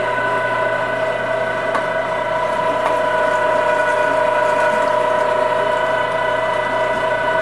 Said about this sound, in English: This is kind of going kind of slow. It's a small grinder.